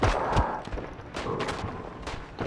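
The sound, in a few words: Austro-Hungarian revolver gunfire in video game Isonzo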